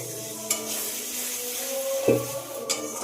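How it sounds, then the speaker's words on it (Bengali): Spices with salt and turmeric sauté in a pan for a spinach and egg curry, hissing and sizzling steadily up close, with a spoon scraping and stirring and a brief louder burst partway through. "স্বাদ মতো লবণ, অল্প করে হলুদ গুঁড়ো দিয়ে আবার একটু কষিয়ে নিতে হবে"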